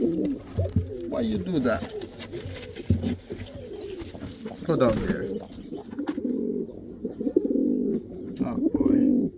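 Indian fantail and pouter pigeons coo in repeated low, rolling bursts close by, while someone talks to the birds over them now and then.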